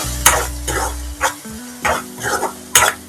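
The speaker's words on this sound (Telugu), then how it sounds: "పేస్ట్ అంతా వేసుకొని కలుపుకోవాలి" Masala paste with tomato being stirred into hot oil with curry leaves in a pan, a village-style broad bean curry base, giving scraping stirs in bursts over a low frying sizzle, close up with no talking.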